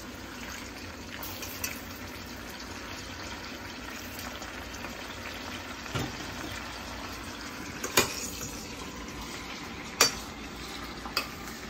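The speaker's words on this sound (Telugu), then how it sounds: "సో ఇప్పుడు నేనైతే ఎండు బఠానీ వేస్తున్నాను" Soaked dried peas go into a pan for pav bhaji, followed by a soft, steady sizzle and bubbling with quiet stirring and a few sharp utensil clicks, close and low in level.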